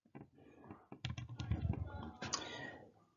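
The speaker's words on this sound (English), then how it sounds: "typing it in my calculator" Numbers are tapped into a calculator in quick, uneven bursts of close, light clicking keypresses, with a short pause partway through and no talk.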